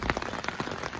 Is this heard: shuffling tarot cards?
no